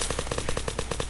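Rapid automatic gunfire in the video game Unturned, about a dozen evenly spaced shots in a steady burst, loud and close with no talking.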